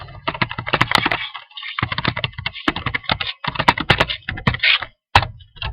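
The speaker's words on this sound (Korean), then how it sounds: "FTP 아이디와 패스워드를 입력하세요." Close, busy keystrokes on a computer keyboard as an FTP ID and password are typed, rapid clattering runs broken by short pauses, with no talking.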